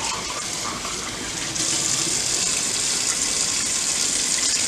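Water poured from cans into a dish while making Southern cornbread dressing, a steady hissing gush that gets noticeably louder partway through and keeps going close and continuous, with no talk.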